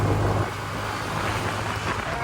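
Road traffic with passing cars rumbles steadily on a Binondo street in Manila, a broad low engine and tire noise that is loudest at the start and then settles into a constant wash.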